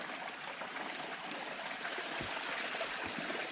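A mountain stream runs low in late August, giving a steady, close broadband rush of flowing water with faint low thumps beneath it.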